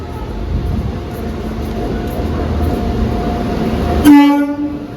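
At Kalyani Simanta station, a Lalgola passenger train rumbles steadily closer, then sounds a loud, sustained horn blast near the end, the rail noise continuing beneath it.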